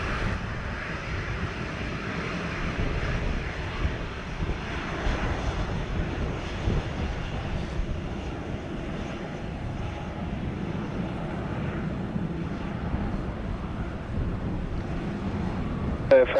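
An airliner on the runway at Montego Bay airport, Jamaica, with a steady, loud engine roar sustained throughout, mixed with wind buffeting on the microphone.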